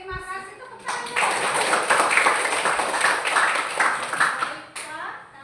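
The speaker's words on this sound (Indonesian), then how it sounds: "Tepuk tangan." Classroom applause breaks out after a brief spoken cue, a burst of many hands clapping in a dense patter lasting several seconds, then fading as talk resumes.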